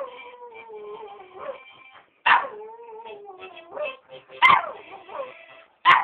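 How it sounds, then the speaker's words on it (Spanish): A small dog howls and yips along with a harmonica playing a wavering melody, the instrument's sustained notes threading through while the dog's louder, raspy cries break in several times, close and unaccompanied by talk. "El perrito que canta con la armónica"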